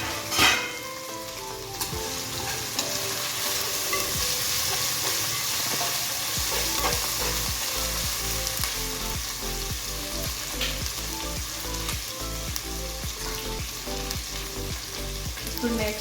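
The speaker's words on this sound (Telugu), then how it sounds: "ఇప్పుడు నెక్స్ట్ పనసకాయ యాడ్ చేసుకున్నాం, ఆయిల్లో కొద్దిసేపు ఫ్రై చేసుకున్నాం" Pieces of raw jackfruit fry in hot oil for a biryani, a continuous close sizzle and crackle that runs without a break, with repeated stirring and scraping of the pan.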